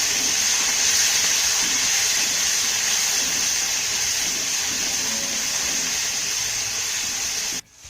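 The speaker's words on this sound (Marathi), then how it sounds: "यामध्ये आपल्याला एक बारीक चिरलेला टोमॅटो घालायचा आहे टॉमॅटो आपल्याला मौसूद होईपर्यंत परतून घ्यायचा आहे" Finely chopped tomato sizzles steadily in a pan with garlic, a constant close hiss of sautéing that holds at an even level for several seconds before a sudden stop.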